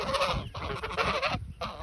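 A farmyard goose gives loud, nasal honks in quick repeated bursts, close by and alone, with brief pauses between calls.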